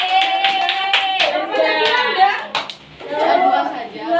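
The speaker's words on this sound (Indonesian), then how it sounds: "Tepuk tangan dulu ya." Classroom of students clapping hands together during a microteaching lesson, a brief burst of close, rapid claps mixed with children's voices and chatter.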